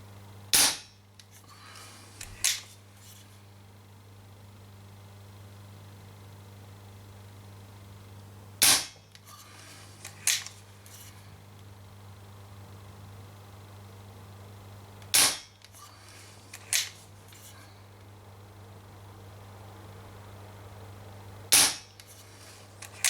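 A Marlin 6mm CO2 revolver fires sharp, close single shots spaced several seconds apart, each followed by a softer click or secondary pop, over a steady low hum.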